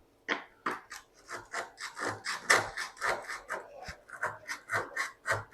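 Rhythmic scraping strokes of a blade rasping out old bathroom tile grout, about a dozen even back-and-forth passes, close and fairly loud, no voices.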